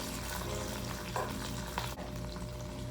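Food sizzles and simmers in a hot pan in a hotel kitchen, a steady close frying hiss with brief stirring scrapes and no voices.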